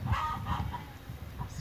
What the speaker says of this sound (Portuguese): Galinha no chiqueiro.